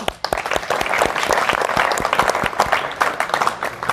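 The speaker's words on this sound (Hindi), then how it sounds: "एक बार आप एनएसएस के लिए जोरदार तालियां" Loud, dense applause from a large crowd at an Earth Day celebration event, cheering NSS volunteers, steady clapping filling the space throughout.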